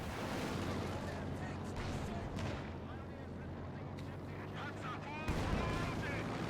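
An anti-tank gun fires in the strategy game Company of Heroes 2, with heavy booming shots and continuous battle rumble under a commentator's voice, and a sharp blast near the end.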